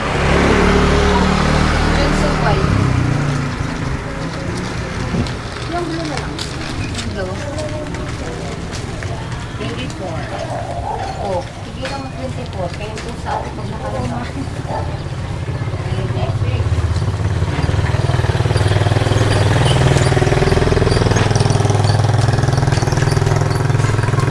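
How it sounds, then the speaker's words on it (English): Motorbike engines rumble and whine past on a busy street in Angeles City, Philippines, rising and fading, with a dog barking and people talking in the background. "Here's some of these bikes go by and you don't even know how they stay on the road"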